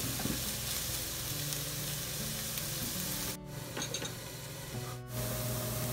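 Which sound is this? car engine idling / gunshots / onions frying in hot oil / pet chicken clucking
onions frying in hot oil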